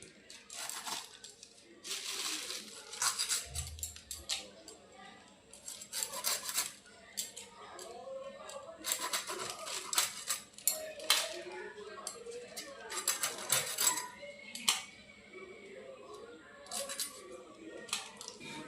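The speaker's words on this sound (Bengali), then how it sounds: "এখন মাছগুলোকে টুকরো করে নিচ্ছি।" A knife chops cleaned pond fish into pieces on a board, making irregular sharp clacks and metallic knocks in bursts, close and fairly loud against a quiet village background.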